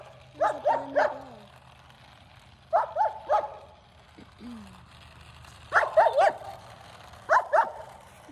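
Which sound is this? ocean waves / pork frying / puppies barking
puppies barking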